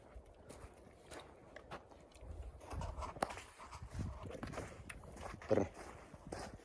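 Hooves of harnessed Novoalexandrovsk draft horses clip-clop at a walking pace, a series of soft irregular knocks close by over a quiet background.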